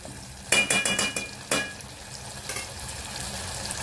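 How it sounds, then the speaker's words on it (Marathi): Spices sautéing in hot oil in a pan for a methi malai matar dish, with a burst of sharp sizzling crackles and stirring scrapes near the start, then a softer continuous fry. "तेलावरती चांगली परतून घेऊ."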